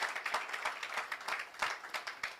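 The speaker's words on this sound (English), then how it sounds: "Let's give a long round of applause and invite her." A crowd at an evening satsang gathering applauds to welcome the chief guest, steady overlapping hand claps with rhythmic peaks, close and fairly loud, with no voices over it.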